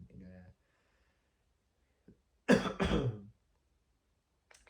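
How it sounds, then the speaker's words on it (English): Two quick, harsh coughs close to the mic, preceded by a short vocal sound and followed by quiet. "I keep coughing always"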